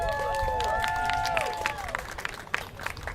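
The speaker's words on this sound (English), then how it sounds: "So I want to give you, everybody here, a round of applause." Rally crowd at the Lincoln Memorial in DC claps and cheers in a dense burst that thins out over a few seconds, with voices rising over the fading applause.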